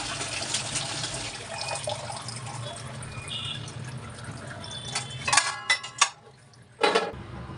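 Tap water running while carrots are rinsed by hand, a steady splashing stream with a few sharp clatters and knocks near the end.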